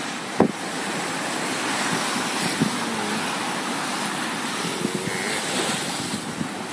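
A sailboat on autohelm runs through good-sized ocean swells, with a steady rush of waves and wind noise and a few soft thumps of the hull meeting the water.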